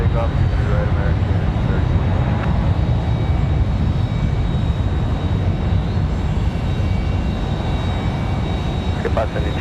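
An American Airlines jet rolls for takeoff on runway 23 right at Raleigh-Durham on a windy day, a loud, continuous broadband engine roar filling the whole stretch without letting up.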